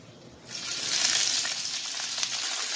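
Curry leaves drop into hot oil in a pan while prawn fry is made, setting off a sudden loud, bright sizzle about half a second in that keeps crackling steadily to the end, with no voices.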